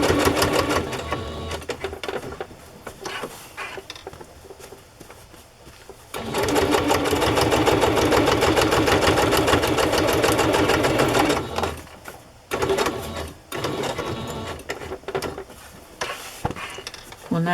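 Sewing machine stitching a fabric journal cover, running in steady bursts with brief pauses between, loud and close, with no talk over it.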